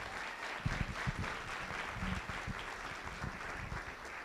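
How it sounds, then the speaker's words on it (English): At a Board of Education meeting, a room claps for an elementary student called up to be recognized, giving an even, moderately loud round of applause that continues throughout. "Let's give her a round of applause."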